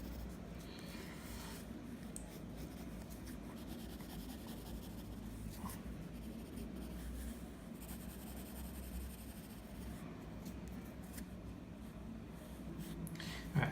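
Pencil drawing and shading on paper with a darker pencil, continuous soft scratchy strokes close up, quiet and steady throughout with faint background hiss.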